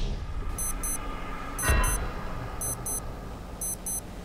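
An alarm rings in a shark-island survival video game as repeated pairs of sharp electronic beeps about once a second over a dense, steady wash of background noise, with one louder rushing swell midway.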